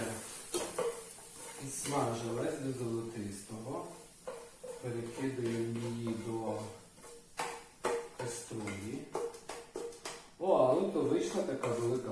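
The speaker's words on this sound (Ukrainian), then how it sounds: "цибуля ну, швидко так смажується" Onion frying in a pan for a vegetable ragout, a soft sizzle running beneath steady talk, with occasional stirring and clinks of utensils against the pan.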